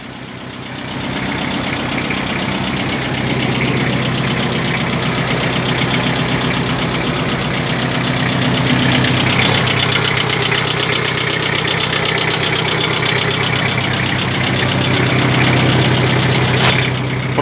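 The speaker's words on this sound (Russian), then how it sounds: "Сегодня у нас на обзоре японский мини-трактор Mitsubishi MT2201D" A Mitsubishi MT2201D Japanese mini tractor with a front loader idles nearby, a loud, steady low diesel chug that holds unbroken throughout with no talk.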